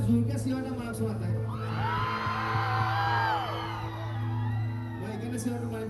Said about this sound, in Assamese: এবাৰ জোৰকে চিঞৰটা মাৰকচোন আটাই